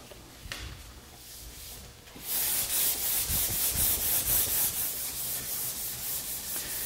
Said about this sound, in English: Using a sanding block assures that I'm applying even pressure over a wide area